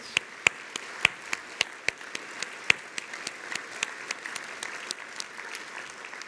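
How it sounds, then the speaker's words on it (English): An audience at a Portland State University student speaker event applauds for two people, a thin, sparse round of claps with a few sharp, close individual claps standing out over a soft crowd patter. "can we have one more round of applause for Colin and Hannah?"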